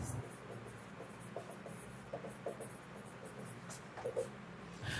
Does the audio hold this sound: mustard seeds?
no